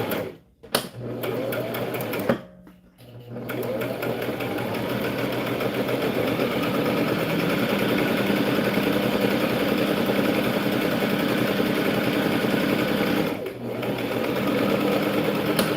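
A sewing machine runs steadily, stitching organza ribbon onto a tutu. A loud continuous mechanical whir stops briefly twice near the start, then hums on without a break, with a short dip later.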